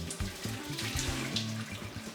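Water from boiled potatoes pours steadily through a clip-on strainer into a kitchen sink, a continuous splashing rush heard close up with no talking.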